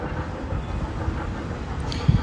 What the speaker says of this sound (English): it's great to see the train is running here as well